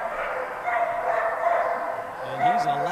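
A loud dog barks and yips during an agility run at a world team tryout, in an echoing hall, with short repeated bursts rising over a commentator talking throughout.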